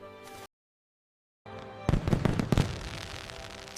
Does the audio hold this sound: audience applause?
no